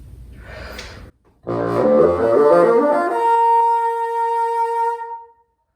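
A bassoon in a woodwind quintet setting plays a rising run of higher notes, ending on a long sustained tone. A short, softer passage comes first, then a brief pause. It sounds close and clear, with no talking.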